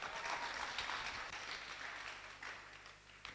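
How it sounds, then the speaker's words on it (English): An audience claps for the participants at a national debate championship, producing a steady wash of applause that keeps going for the whole stretch and thins slightly toward the end. "Please clap for yourselves."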